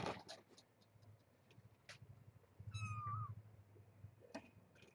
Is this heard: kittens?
yes